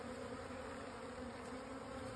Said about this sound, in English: The bees are already working at it.